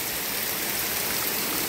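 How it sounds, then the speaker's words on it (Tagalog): Heavy rain pours down at the entrance to Bulusan Lake, a dense, steady hiss and roar with no break and no voices. "Kaso inabot na kami ng lakas ng ulan."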